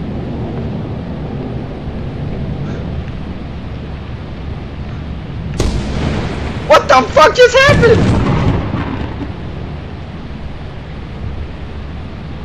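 In the video game Lethal Company, a lightning strike hits with a sudden loud crack followed by a rolling rumble, partway through a quieter stretch. A player's startled voice shouts over it.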